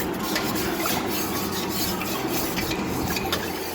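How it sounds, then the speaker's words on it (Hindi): Lemon juice and Rooh Afza being stirred into watermelon juice, a steady close scraping and rubbing of a utensil against the container with faint clinks, continuous and without talk. "अब हम इनको अच्छी तरह से मिक्स कर लेते हैं"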